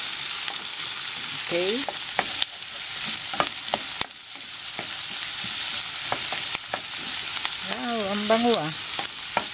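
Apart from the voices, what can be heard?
onion sautéing in a pan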